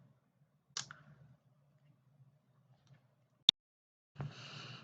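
A single sharp computer mouse click during a BIM 360 software walkthrough, crisp and close, with a quiet voice murmuring before and after.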